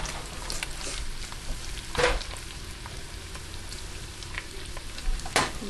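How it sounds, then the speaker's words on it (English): Fresh mushrooms and vegetables sauté in a hot pan, giving a steady close sizzle and frying hiss, with a few louder stirring clatters and spatters breaking through. "So I need to get all of these fresh veggies in here so they can start to saute."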